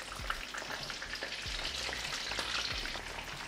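Shrimp frying whole in hot oil until brown and crispy, a steady close sizzle with faint bubbling pops and a few soft low knocks from the pan, no talking.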